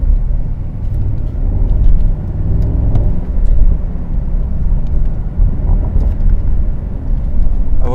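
A 2022 Mercedes SL 63 AMG engine drones in a loud, steady low rumble while the car is driven, holding continuously through the whole stretch with no talking.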